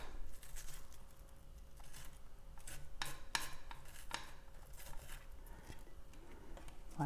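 A knife chopping onion on a board, quiet irregular taps and cuts of varying spacing, soft and close with no talking over them.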